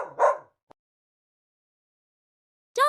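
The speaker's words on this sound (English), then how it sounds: "Dogs wag their tails when they are happy and say," A dog gives two short, close barks separated by a couple of seconds of silence, with a tiny faint click between them.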